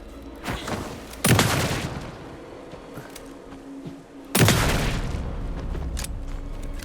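Two heavy bursts of gunfire in Alan Wake 2 come a few seconds apart, each a loud crack with a booming tail that rolls on under sparse lighter shots and background rumble.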